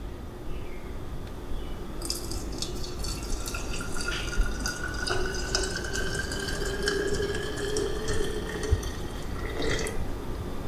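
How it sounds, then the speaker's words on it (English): Very hot water pours onto a tablespoon of solid lanolin and a chunk of E-bar soap in a container, a steady soft trickle with light splashes lasting about ten seconds, fairly quiet and close. "I'm going to add some super hot water."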